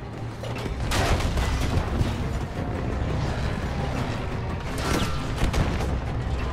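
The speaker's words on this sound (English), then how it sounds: "look at the explosions" Explosions and artillery fire in the Battlefield 5 video game set at Tobruk: a dense, loud rumble with heavy booms standing out, continuous and close.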